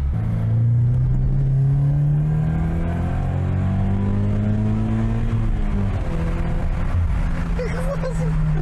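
A Subaru BRZ engine with a new cat-back exhaust idles low and steady in second gear at about 2000 rpm, a throaty exhaust drone, rising slightly in pitch midway as it cruises near 50 km/h, close and continuous.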